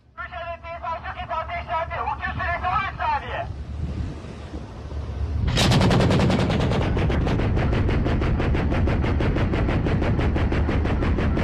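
Rapid bursts of heavy artillery and rocket fire erupt after a few seconds of wind and rumble, continuing loud and relentless to the end, in the Eastern Mediterranean.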